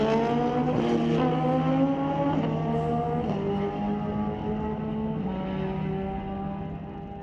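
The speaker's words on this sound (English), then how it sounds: "That's a 1000cc turbocharged sled" A turbocharged 1000cc Ski-Doo snowmobile drag racing off the starting line, its engine roaring loud and steady with harmonic tones that rise and shift, a sustained high-revving drone through the whole run.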